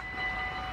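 An Arriva train passes through Susteren station, a steady broadband rumble and rush of rail noise with a faint high whine, heard close and alone for a brief moment.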